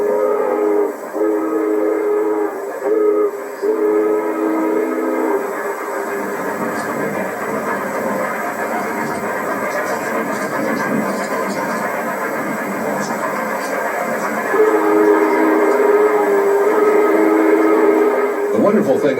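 Union Pacific 3985 Challenger steam locomotive running, with a steady rumbling train noise and tonal whistle-like bands throughout, loud and close, under a narrating voice.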